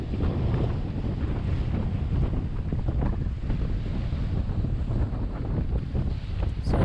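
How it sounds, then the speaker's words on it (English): Steady roar of strong wind buffeting a sailboat on the North Atlantic as a low pressure system passes, with building seas washing and surging beneath it, loud and continuous throughout. "another low pressure system moving to the north of us. Wind and seas beginning to build."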